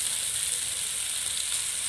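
Chicken chow mein noodles frying in a kadai, a steady bright sizzle without breaks, close and even, with no talk.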